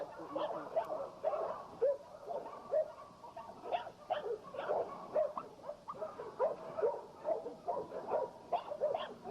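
Dogs in a yard give repeated short barks and yips, a steady run of overlapping calls at close to moderate distance with no talk over them.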